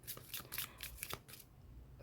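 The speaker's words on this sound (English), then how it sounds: "we have one last oracle deck before we start your reading. Okay, let me shuffle it." Oracle card deck being shuffled by hand, a few quick riffling bursts of papery flutter and snaps close up, then fading to quiet, no talk.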